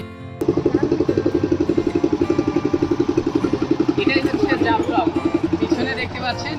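A motor boat engine runs with a steady, loud, rapid chugging throughout a boat ride, with voices rising over it toward the end.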